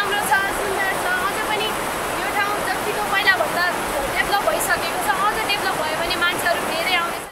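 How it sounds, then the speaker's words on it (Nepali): Birekhola waterfall in Nepal gives a steady broadband rush of falling water throughout, heard beneath a voice talking over it. "बिरेखोला झरना हेर्न र रमाइलो गर्न"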